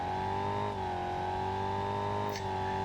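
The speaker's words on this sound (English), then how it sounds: "the engine's still going. I can still rev it." A crash-damaged car engine in the driving game BeamNG.drive, its rod bearings failing, holds a steady droning whine with strong harmonics that dips briefly and recovers, loud and alone without talk.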